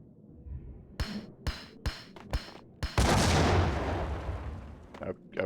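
In the video game Max Payne, several sharp gunshot cracks are followed by a loud grenade explosion whose roaring blast slowly decays, then a few more impacts.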